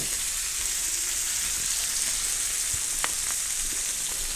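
Marinated meat sizzles loudly and steadily in a hot pan, a continuous close hiss with a few faint pops, and no voices over it.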